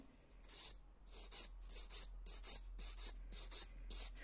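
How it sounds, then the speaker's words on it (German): A fingernail filed with a nail file while removing a nail lifting, about ten rhythmic rasping strokes in steady succession, close and crisp, with no talking. "jetzt befeile ich das erstmal schnell"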